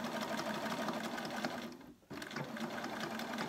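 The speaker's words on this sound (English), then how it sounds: "I'm just going to edge the top of the bag, so I'm going to take the machine now, secure this at the shoulder here." A sewing machine stitches the top edge of a fabric peg bag with a steady, quiet mechanical whirr that pauses for a moment before continuing, with no voices.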